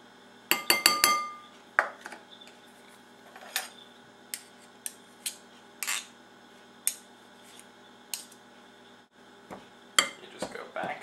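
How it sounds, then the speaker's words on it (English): A fork cutting Crisco shortening into flour in a bowl for a Long Island cheese squash pie: sharp, irregular metallic clinks and taps against the bowl, a quick cluster then sparser strikes, fairly close. "taking a fork or a dough blender and pushing down on the Crisco or shortening until it mixes in with the flour"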